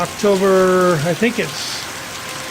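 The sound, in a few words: very heavy rain during thunderstorm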